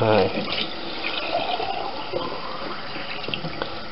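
Tap water runs steadily into a jar as it is rinsed at a sink during homemade alcoholic ginger beer making, a loud close splashing stream that continues throughout.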